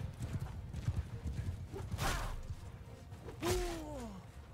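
Cavalry horses in a Bannerlord battle, hooves drumming in a quick uneven rhythm with a loud whinny near the end over distant clashing.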